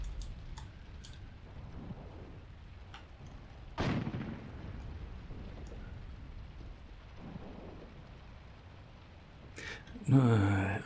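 A high-explosive artillery barrage in the Graviteam Tactics war game, with distant booms and crackles rolling over a continuous rumble, one sharper blast near the middle and a louder burst at the very end.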